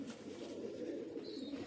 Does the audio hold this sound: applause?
no